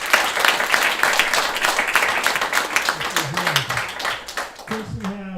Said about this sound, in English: shout them out with a great round of applause